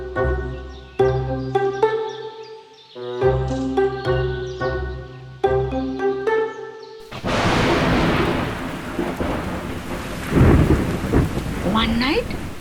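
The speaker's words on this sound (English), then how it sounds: "there was heavy rain outside. The wind was blowing very strongly" After a short musical phrase, heavy rain pours down in a dense, steady hiss at night, with strong wind and a deep rumble of thunder rising near the end.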